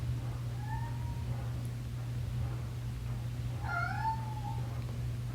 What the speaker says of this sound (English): Don't you meow at me.